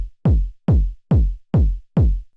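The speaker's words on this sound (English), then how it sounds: "So the kick with the noise." Distorted 909 kick drum layered with a hissy noise top, five loud booming thumps with descending pitch tails and a faint crackly sheen above, evenly spaced in a steady four-on-the-floor pulse.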